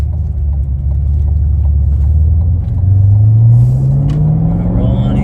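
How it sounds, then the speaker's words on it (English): A 2022 Cadillac CT5-V Blackwing runs down a track straightaway, its engine a loud, deep, steady rumble that climbs gradually in pitch as the car accelerates, heard close from inside the cabin. "we're coming up to the last straightaway in the Blackwing"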